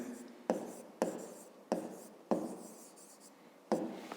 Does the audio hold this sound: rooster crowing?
no